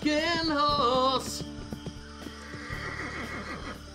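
A horse gives a loud, clear whinny with a falling, wavering pitch lasting about a second, followed by a mix of hoof clatter and other noise.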